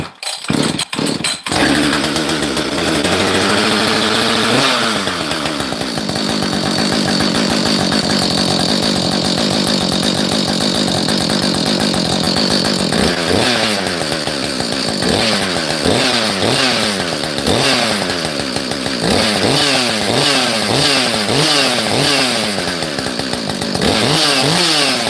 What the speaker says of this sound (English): Let's see if this thing will go. So firing up saws for 25K.